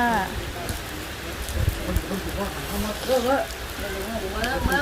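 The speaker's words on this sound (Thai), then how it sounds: "ก็ฝนตกโปรยปลายเลยนะคะ" Steady rain patters on a surface in a constant hiss, with soft voices murmuring underneath.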